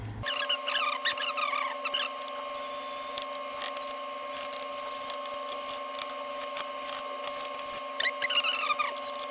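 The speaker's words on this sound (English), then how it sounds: "take your T8 screwdriver and just unscrew all the screws around here" Screws being backed out of a PS5 console with a T8 Torx screwdriver, giving short bursts of close, squeaky metallic turning over a steady electrical whine and hum, with no voices.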